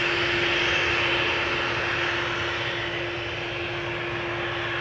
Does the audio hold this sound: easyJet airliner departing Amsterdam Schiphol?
yes